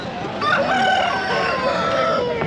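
A fighting rooster at a rural poultry market crows loudly and close by, one long strained call with a ragged, hoarse edge.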